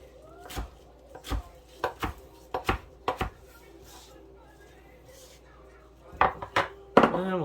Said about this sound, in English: Just going to take our basil and give it a rough chop.